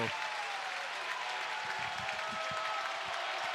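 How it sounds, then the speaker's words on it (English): Crowd in an arena at a men's college basketball game between Michigan and Indiana gives dense, steady applause and cheering, with a commentator talking over it. "And the crowd really getting into it now."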